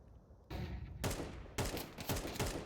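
Bursts of gunfire in a Counter-Strike esports match on de_Ancient, with loud, dense broadband volleys of rapid shots starting in several waves and continuing to the end, no talk over them.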